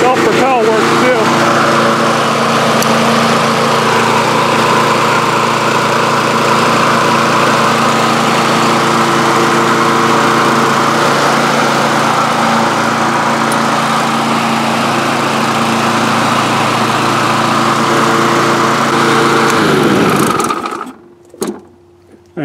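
A Kohler XT6 lawn mower engine with a freshly replaced oil pan and crank seal runs steadily at close range, an even buzzing drone that holds for about twenty seconds before cutting off abruptly, followed by a brief settling rattle.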